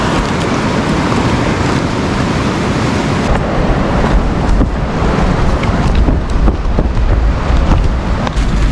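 A river rushes along a gravel cycling route in snowy country, a loud, steady wash of flowing water with wind buffeting the microphone and no talk.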